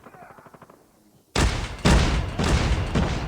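A short voice comes first, then loud, close bursts of explosions from grenades or bombs in a shooter video game, hitting about every half second with a booming rumble between them.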